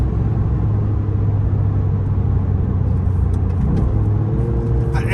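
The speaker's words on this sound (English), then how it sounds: "most impressive 3-cylinder car I've ever driven in all of my life." Toyota Yaris GR three-cylinder engine droning steadily from inside the moving car, a loud continuous low rumble with slight rises in pitch toward the end, no talking over it.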